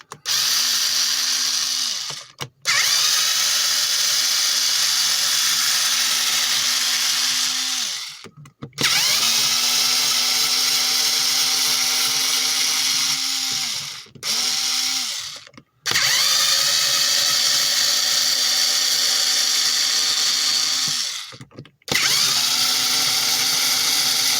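A cordless drill whirs loudly in long sustained runs, stopping briefly and restarting several times, close up with no talking, during repair of an antifreeze leak on a car's LPG regulator.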